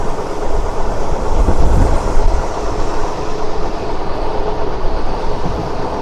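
The Seshadri Express runs from Tirupati toward Bengaluru in light fog, its rumble loud and continuous from on board, with rolling wheel clatter and a heavy low-end surge early on.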